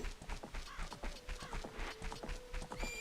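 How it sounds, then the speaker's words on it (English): Rhythmic clip-clop of horse hooves in the video game The Legend of Zelda: Ocarina of Time, quiet and steady, with a faint melodic game tone running beneath. "Look at that swanky horse."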